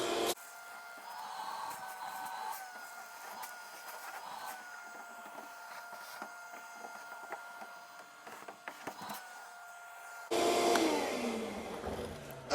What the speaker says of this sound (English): I vacuum it to get all the big debris and the little fine particles of dust and stuff out of there